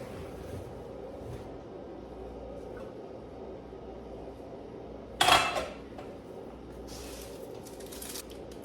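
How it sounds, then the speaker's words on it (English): A home kitchen oven door opens with a single brief metallic clank, followed by faint rattling in an otherwise quiet room. "Now you can see as I open my oven door."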